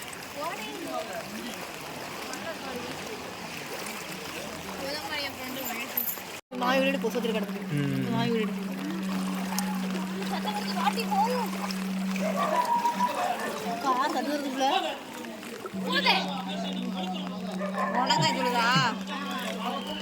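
Floodwater from heavy Nellai rains rushes and splashes around submerged houses, a continuous watery wash running under excited talk and shouting, with a dog barking nearby.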